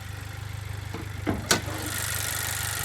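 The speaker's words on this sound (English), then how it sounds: "It is a little bit of a noisy engine because it's direct injection" A 2019 Honda Civic Si direct-injection engine idles with a steady low hum and a ticking clatter, broken by a couple of brief sharp clicks near the middle.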